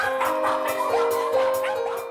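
Several dogs barking and yipping together in a family kennel in a residential suburb, a continuous, close, busy chorus of barks overlapping one another with no voices.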